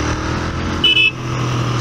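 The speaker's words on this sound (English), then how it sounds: "There's lots of traffic today." Road traffic around a moving Royal Enfield 650 motorcycle, a loud steady engine and road roar with a brief car horn toot partway through, no talking.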